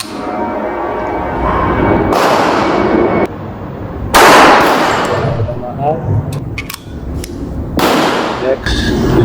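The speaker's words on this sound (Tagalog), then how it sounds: "Putukan natin yung metal target." A .45 caliber 1911 pistol fires at a metal target 25 meters away on an outdoor range. Several loud, sharp reports come a few seconds apart, with faint metallic rings between them and people talking in the background.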